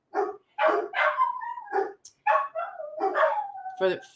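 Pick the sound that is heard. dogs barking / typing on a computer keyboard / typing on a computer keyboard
dogs barking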